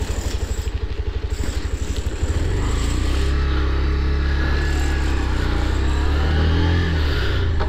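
A Bajaj Pulsar 125 Neon motorcycle riding on a road, its engine close and loud. It runs with a steady pulsing note, then shifts gear and settles into a smoother, continuous drone.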